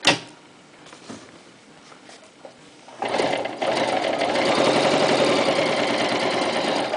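A Toyota FSG325 sewing machine stitching marine vinyl with a leather needle starts up after a few quiet seconds, then runs in a steady close mechanical whir with rapid needle chatter to the end.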